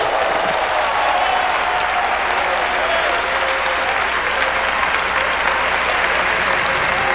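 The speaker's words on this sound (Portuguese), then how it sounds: "Aplaudamos ao guerreiro maior" Audience applause in a church convention hall, a sustained dense wash of clapping from many hands that stays loud and steady throughout, with a faint voice or cheer faintly above it.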